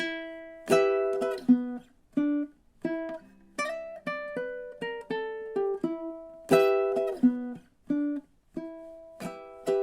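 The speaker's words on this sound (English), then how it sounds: "I'm going to play that same little riff part into the repeat" A minor blues riff on ukulele leads back into the top of the form, steady plucked notes and chord strums ringing close and clear with no voices, two louder strummed accents marking phrase starts.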